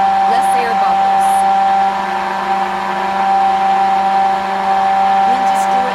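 A stick blender mixes homemade lotion, giving a steady, close, whirring motor drone with a constant pitch that runs on without stopping.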